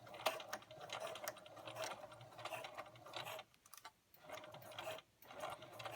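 A sewing machine stitching an elastic waistband, giving a steady, fast mechanical whirring and clatter at low level that runs continuously, briefly pauses, then resumes.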